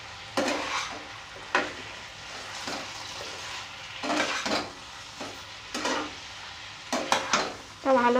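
Egg-potato fry seasoned with salt and turmeric, stirred in a frying pan, gives repeated scraping strokes of a spoon over a constant sizzle, with small metallic taps between strokes, close and clear and without speech.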